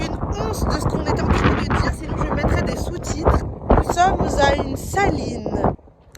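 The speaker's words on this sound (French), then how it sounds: "ce qui est fou, c'est qu'il y a vraiment énormément de vent" Strong wind at a salt works buffets the microphone in loud, rumbling gusts while a person talks, then drops off suddenly at the end.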